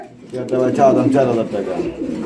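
A pair of German Modena pigeons, male and female, giving a close, fairly loud rolling coo that swells and fades over about two seconds.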